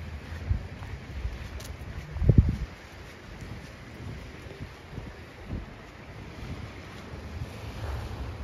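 Sea waves wash onto Brighton beach in England with a steady broad hiss of surf and wind buffeting the microphone, plus one louder low thump of a breaking wave partway through.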